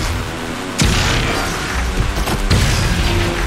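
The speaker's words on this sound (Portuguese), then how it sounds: "Dois tiros." Loud, dense gunfire and blasts in the first-person shooter Doom Eternal, with sharp impacts cutting through a constant roar of game noise and music.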